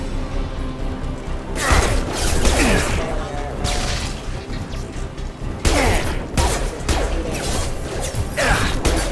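Security mechs firing in the video game Mass Effect 2, a dense, continuous barrage of shots and mechanical whooshes with several louder crashing bursts, steady and close throughout.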